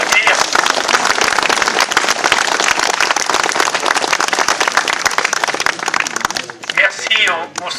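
An audience applauds choir singers: loud, dense clapping runs steadily for several seconds, then thins out near the end as voices rise through the fading applause.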